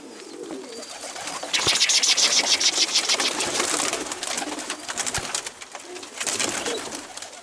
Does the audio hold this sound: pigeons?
yes